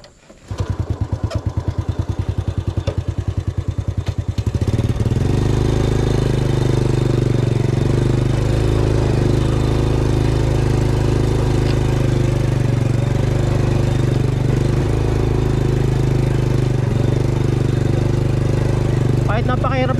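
A motorcycle engine putters steadily at idle nearby on a rough trail road in Montalban, Rizal, Philippines, a low continuous chugging after a brief start, with voices faintly underneath.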